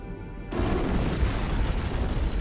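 A sudden heavy boom from an antimatter charge going off aboard a ship in Halo: Combat Evolved, hitting after about half a second and settling into a loud, sustained low rumble.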